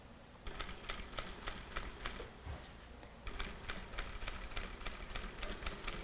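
A sewing machine stitches a binding onto fabric with a rapid, even mechanical chatter, running in two bursts separated by a brief pause, close and fairly quiet.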